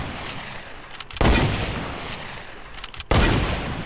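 Two loud, sharp hunting rifle shots from the video game Fortnite, about two seconds apart, each a sudden full-band crack with a short decaying tail over a steady game background.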